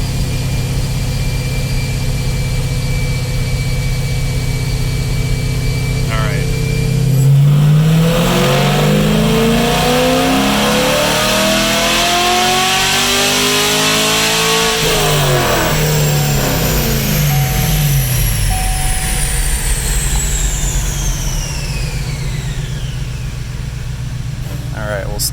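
A Chevrolet SS 1LE on a chassis dyno runs through a full-throttle pull, its engine climbing steadily in pitch to a loud peak, then winding back down amid a constant roar of cooling fans.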